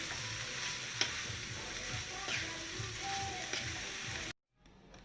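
Chicken pieces cooking in tomato sauce with food colouring sizzle steadily in a pan, a dense continuous frying hiss with a few clinks before it cuts off abruptly near the end.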